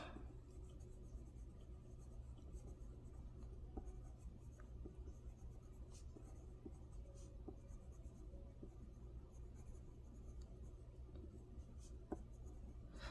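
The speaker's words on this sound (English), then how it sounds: "And yes, I am holding my pencil right near the tip, but I don't have a death grip on it." A pencil moves over paper in heavy grayscale shading, a faint, steady scratching with light irregular strokes and small taps, close and quiet with no talk.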